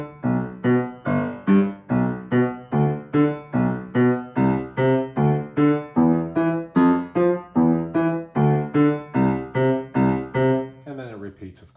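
Piano duet part of a piece from an adult beginner piano book, played with one hand as a steady series of evenly spaced repeated chords, close and clear, ending with a short fade and a slight rustle.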